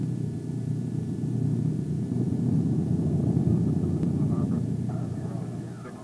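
A Douglas DC-7 airliner in flight with its landing gear extended makes a steady, heavy low engine drone that swells gently and then eases, close and continuous with no voices.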